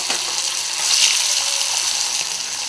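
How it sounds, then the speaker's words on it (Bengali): Soybean chunks dropped into hot oil in a wok give a loud, close, steady bright sizzle, swelling briefly, then settling into an even hiss. "তেলটা গরম হয়ে গেছে আমি ওতে সয়াবিনগুলো দিয়ে দিচ্ছি"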